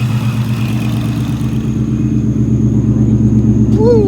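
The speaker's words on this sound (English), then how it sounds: "Let's hear the exhaust." Exhaust of a 2018-2020 Ford Mustang GT V8 with a Vortech supercharger, idling with a loud, deep, steady burble close by, plus a faint high whine and a short rising rev at the end.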